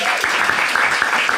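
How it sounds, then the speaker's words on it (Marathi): Audience applause at a Marathi stand-up comedy crowd-work show, steady dense clapping from a live crowd throughout the short moment, fairly loud and close. "एकदा टाळ्या वाजायच्यासाठी."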